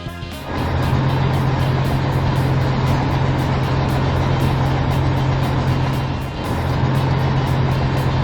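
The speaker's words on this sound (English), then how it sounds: "Runaway truck!" A cartoon runaway delivery truck speeds downhill with no brakes, a loud steady engine roar with a low droning hum that holds for several seconds, dipping briefly before surging on.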